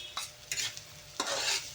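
A spoon stirs dried chili in a cooking pan of dilis anchovies prepared Spanish-sardine style, making three quick scraping, sizzling strokes up close, the last one longest, with no voices.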